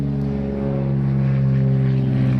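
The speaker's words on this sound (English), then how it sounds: "And here he is just about to take off and go once around the pattern" A Cirrus light airplane rolls out on the runway before takeoff, its engine a steady, loud droning hum with strong low tones that swells slightly toward the end, heard up close with no voices.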